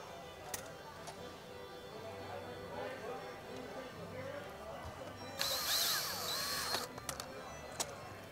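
A power drill drives a screw into the rod of a vertical-rod panic bar, one short high whine lasting about a second and a half amid quiet handling clicks.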